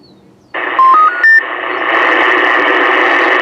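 A CB radio plays through an AT-6666pro 4x6 inch external speaker: a few quick keying beeps, then a loud, steady hiss of open-channel static close by.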